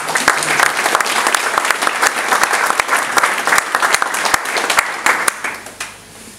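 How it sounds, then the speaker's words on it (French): An audience at a Sainte Barbe firefighters' ceremony gives sustained, dense applause that carries on evenly for several seconds before fading out. "Vous pouvez les féliciter et les applaudir."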